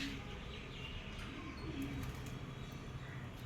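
Pigeons coo softly from a garden pigeon house, a steady low murmur under a constant wash of outdoor background noise, with a few faint chirps.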